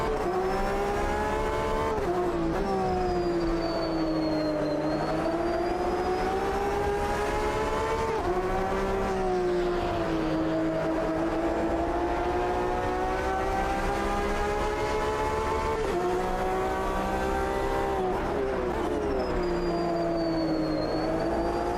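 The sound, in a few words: two Porsche race car engines in Automobilista 2 video game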